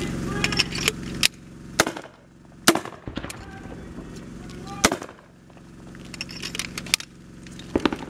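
Rifle and machine-gun fire on an outdoor military firing range with a Grenadier Guards unit, sharp loud reports at irregular intervals, several close together, with rumbling echo between shots.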